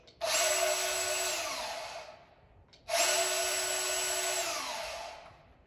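A DeWalt DCS376 cordless bandsaw with a freshly installed blade runs twice in quick succession, each run a loud, steady whine of about two seconds that spins up and winds down.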